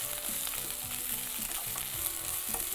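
Mint leaves sautéing in a pan give a steady sizzling fry with soft stirring scrapes, a close and even sound running alone for a few seconds.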